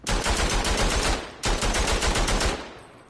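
Rapid automatic gunfire in the WW1 shooter Verdun, two long loud bursts of fast, evenly spaced shots separated by a brief pause, close and harsh, fading with a short tail at the end.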